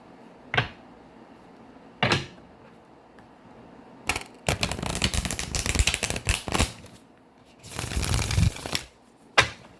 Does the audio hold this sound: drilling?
no